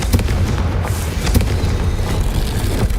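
A Confringo spell explodes in the video game Hogwarts Legacy, a loud, dense burst of booming and crackling blasts that keeps rumbling steadily for the whole stretch, with no talking.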